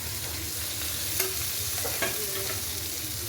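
Carrots, capsicum, cauliflower, peas and beans stir-fry in a pan over lightly fried onion, a soft, even sizzle with a couple of light scraping stirs, fairly quiet and without talk.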